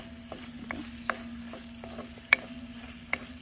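Egg chutney is mixed in a pan with chopped egg whites and ground masala: a faint low sizzle under a few sharp spoon taps and scrapes against the pan, heard alone.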